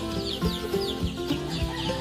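Several chickens cluck and chatter together, close by, with overlapping calls and no talking.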